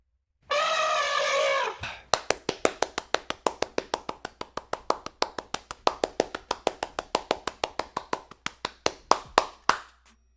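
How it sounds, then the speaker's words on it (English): Sharp, rhythmic hand claps ring out close and alone, some forty evenly paced slaps after a brief burst of sustained noise, steady to the end. "It's a lot of clapping."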